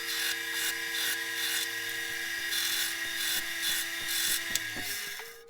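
A power tool cuts a corner off a firewood woodturning blank, a steady near whining buzz with a low motor hum beneath, running continuously and ending abruptly.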